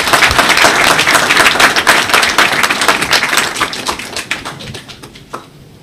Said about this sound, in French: Des applaudissements nourris pour ce bilan élogieux